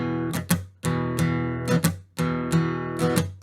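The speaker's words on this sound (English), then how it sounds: "Let's start with the rhythm and the main strumming pattern I use" An acoustic guitar in DADGAD tuning strums a repeated rhythmic pattern, with bright chord hits broken up by short muted chops, close and steady.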